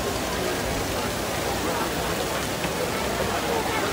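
Water from the Trevi Fountain in Rome splashes and rushes in a dense, steady wash of broadband noise, constant and loud throughout with no pauses.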